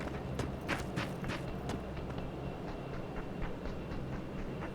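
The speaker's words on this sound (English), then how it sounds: "But I heard more footsteps out here." Player footsteps in the battle royale game PUBG, a quick, regular run of soft thudding steps that continues through the whole stretch at moderate, fairly distant volume.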